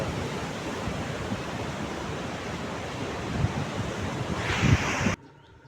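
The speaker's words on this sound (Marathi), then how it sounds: "हे समुद्र अरबी समुद्र आहे" Waves of the Arabian Sea on the Konkan coast make a continuous broad surf wash that swells slightly before cutting off abruptly near the end.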